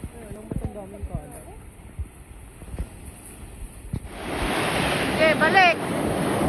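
Waves wash in at Laiya beach, a steady roar of surf that rises after quieter moments with a few faint voices and wind buffeting the microphone.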